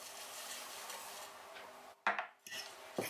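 Dry cracker ingredients, baking powder, sugar, salt and flax seeds, are stirred together in a bowl, a soft scraping rustle followed by a few sharp utensil knocks against the bowl near the end.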